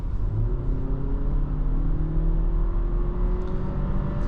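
Engine of an Audi A4 Avant 45 TFSI Quattro, a steady smooth drone with a gently rising tone as it pulls, heard close and continuous with no talking.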